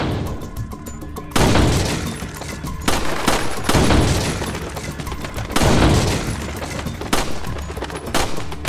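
Handgun and sniper rifle shots from Resident Evil 4 ring out as several loud, sharp blasts a second or two apart, each trailing into echoing noise and clatter.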